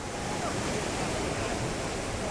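Whitewater rapids and big waves on the Nile in Uganda, a steady, loud broadband rush of churning water filling the whole stretch with no pauses.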